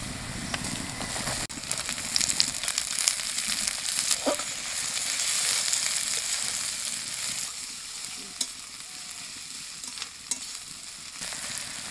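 Chopped onion with crushed ginger and garlic frying in hot oil in a pan, giving a loud continuous sizzle broken by scraping stirs and a few sharp clinks.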